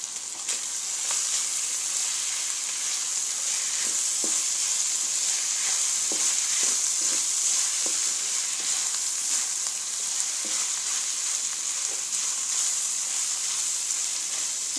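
Kachnar keema, minced meat with kachnar buds and garam masala, frying over a medium flame: a dense, even bright hiss and sizzle with scattered light spoon taps, close and steady, without speech.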